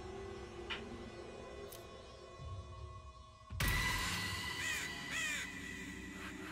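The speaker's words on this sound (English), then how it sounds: "That's a bunch of crows." Crows in South Park: The Fractured But Whole video game, a quiet ambient hum first, then a sudden loud burst of several cawing crows calling repeatedly close by.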